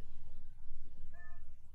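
A cat meows once near the end of a short Twilight Princess HD cutscene, a brief clear call over a low rumbling game background.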